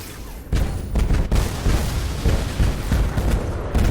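A Singularity Cannon fires in the space combat game Star Conflict, a series of heavy booming blasts with deep rumbling low end arriving in irregular succession over constant loud engine and battle noise.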